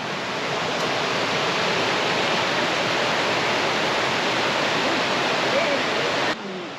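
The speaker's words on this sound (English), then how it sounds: "A waterfall." A waterfall in the Boundary Waters Canoe Area roars as a loud, steady broadband rush that stays constant without pause until it cuts off near the end.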